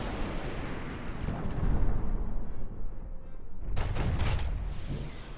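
Missiles striking ships in a space battle in the game Master of Orion, heard as a heavy rumbling boom that swells, eases, then erupts into a sharp burst of crackling impacts near the end.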